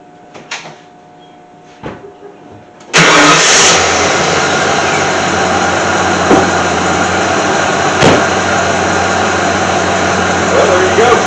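A rebuilt Ford 302 V8 cranks and catches after a few faint clicks, then settles into a loud, steady idle that runs continuously up close.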